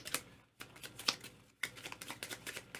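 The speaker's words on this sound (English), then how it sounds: "So I'm going to shuffle those up." Board game action cards being shuffled by hand in quick, crisp riffling bursts with short pauses between them, close and fairly quiet.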